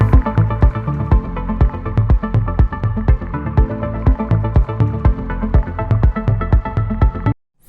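A loud electronic dance track pounds with a steady four-on-the-floor kick, bright percussive hits and a dense synth layer, then cuts out at the end.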